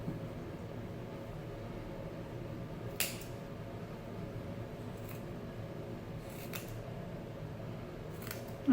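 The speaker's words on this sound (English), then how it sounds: "I'm just going to continue to snip all these embroidered embellishments off here." Several sharp scissor snips at irregular intervals, close by, cutting embroidered embellishments off old clothing, over a steady low background hum.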